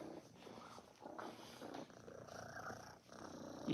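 A kitten purrs steadily while being petted, a soft, close, rumbling purr pulsing in slow breaths with faint rustling of fur and hands.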